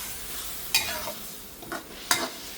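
Pad Thai noodles frying in a pan are stirred with the corner of a spatula, giving three sharp scraping strokes over a steady background sizzle.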